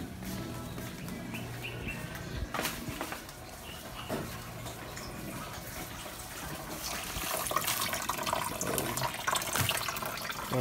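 Water runs steadily from a tap into a container being filled for laundry, a continuous splashing hiss that grows fuller toward the end, with faint bird chirps in the background.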